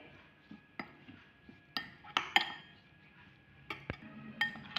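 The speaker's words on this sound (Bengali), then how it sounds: "এবার আমি সবগুলোকে একসাথে মিশিয়ে নেব ধনে পাতা রসুনের সাথে।" A spoon clinks against a bowl while tomato salad is mixed with lemon juice, coriander leaves and garlic. The taps and scrapes come close, at an irregular pace, with no talking.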